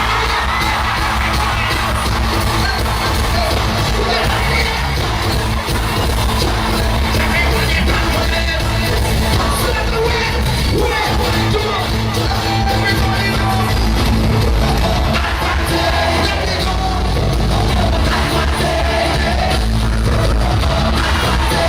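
A large concert crowd at Madison Square Garden roars steadily through Machel Montano's performance of Advantage, a dense wall of cheering, yelling and whooping that stays loud from start to finish.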